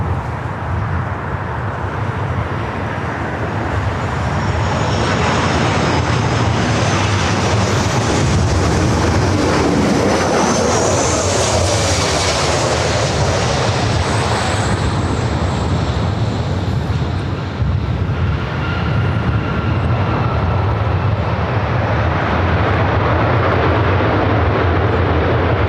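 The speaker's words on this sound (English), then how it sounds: "This is our first arrival back on the 24 right." An airliner landing on runway 24 right at Los Angeles International Airport (LAX): a loud, sustained jet roar that swells and sweeps in pitch as it passes close by, then holds a steady rumble.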